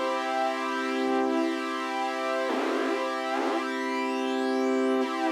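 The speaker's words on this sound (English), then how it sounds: "let's take that comb filter and let's exaggerate the feedback" Synth tone run through a comb filter with heavily exaggerated feedback, producing a steady buzzy harmonic drone with sweeping metallic flanger swooshes that rise and fall twice, loud and continuous with no talk.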